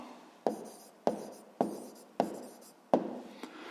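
A pen writes an answer by hand on paper during a sixth-grade maths exercise, in five or six quick scratchy strokes spaced roughly half a second apart, close and quiet with no talking.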